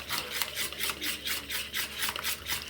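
Cake batter for a vanilla cake is whisked by hand in a bowl, producing quick, regular swishing strokes at close range, with no voices.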